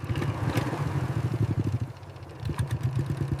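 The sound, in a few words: motorcycle engine sputtering and dying, cartoon sound effect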